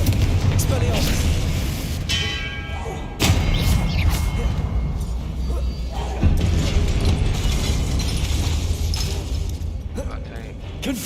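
Spell blasts and booming explosions in Hogwarts Legacy, with repeated thuds, shattering impacts and crackling bursts layered over a voice shouting spell names through the fight.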